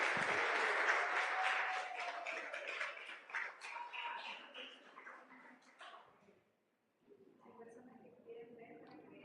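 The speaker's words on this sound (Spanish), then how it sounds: "Dele un aplauso a Dios, dele un aplauso al Señor." A church congregation applauding, a dense burst of clapping that fades over several seconds, a brief pause, then softer clapping again, with voices mixed in.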